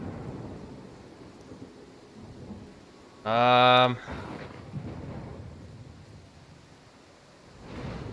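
Thunderstorm ambience in the video game Pathfinder: Kingmaker, with steady rain-like hiss and low rumble throughout and a brief, loud tonal crack in the middle, then the storm swelling again near the end.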